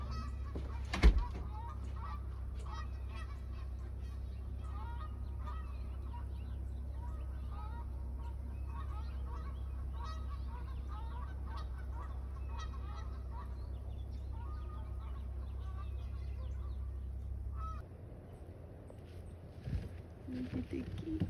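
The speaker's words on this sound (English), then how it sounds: "Look at the geese" Geese honk and chatter steadily in the distance over a constant low rumble, with a sharp knock early on; the rumble stops near the end.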